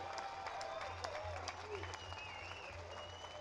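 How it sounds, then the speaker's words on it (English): A crowd at a gun-rights rally applauds military veterans, with distant, steady clapping and a faint murmur under it, quiet throughout. "Round of applause for everybody who has served this country."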